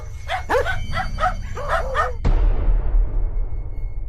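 A dog barks and yips in a rapid run of about six excited barks, fairly close, then cuts off abruptly into a dull thump and lingering low rumble.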